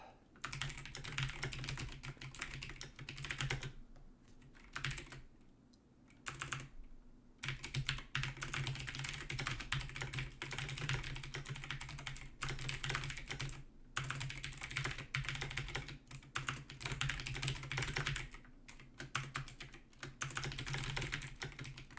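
Continuous fast typing on a computer keyboard while writing a note, dense close key clatter with a few brief pauses, no talking.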